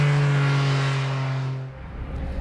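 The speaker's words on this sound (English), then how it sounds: "In the Cayman GT4 RS, this engine makes 493 horsepower, which is plenty." Porsche Cayman GT4 RS with a 493 horsepower engine, a loud close sustained engine note that holds steady, then drops away abruptly into a low rumble.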